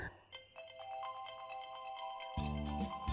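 Incoming-call ringtone on a mobile phone, a bright melodic electronic tune playing steadily at moderate volume with a deeper tone joining near the end, no talking.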